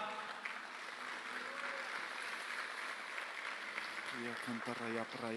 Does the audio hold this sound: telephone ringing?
no